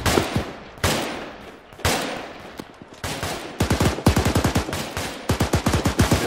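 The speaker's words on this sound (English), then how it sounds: "Keep shooting into it." Arma 3 gunfire comes in bursts: single heavy shots at first, then rapid automatic volleys and repeated cracks, loud and close, with no talking.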